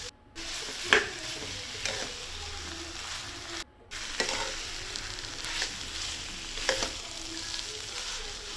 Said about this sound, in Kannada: ಸ್ವಲ್ಪ ಬಿಸಿ ಆಗಲಿ ಸ್ಮ್ಯಾಶ್ ಮಾಡಿದ ಆಲೂಗಡ್ಡೆ